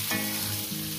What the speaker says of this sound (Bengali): দিয়ে আমি বেগুন আর কাঁচা লঙ্কাটাকে আরও মিনিট 2 ধরে ভেজে নেব